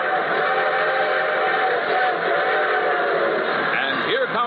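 A train sound effect opens The Railroad Hour radio show, heard as a steady mechanical rumble in band-limited, old-broadcast quality, with a rising whistle-like tone sweeping in near the end.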